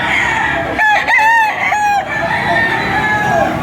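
Gamecock stag crowing at a rooster market in Padre Garcia, loud and close, with repeated clucking and crowing calls from several fowl overlapping against a busy background.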